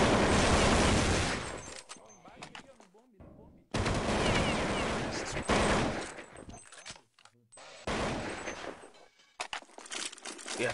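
Gunfire in Counter-Strike 1.6 comes as loud, rapid automatic bursts separated by abrupt silences, with someone speaking briefly between the volleys.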